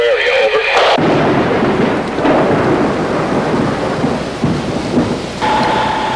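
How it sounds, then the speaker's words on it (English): A loud thunderstorm rolls in as a storm front moves over the area. Steady heavy rain hisses throughout, and a deep, rumbling thunder roll sounds near and loud, with no talk. "there's a storm front moving rapidly to your area"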